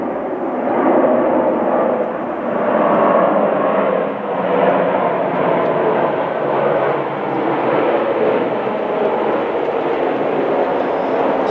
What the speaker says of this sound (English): I'm going to wait for this fighter jet to fly past.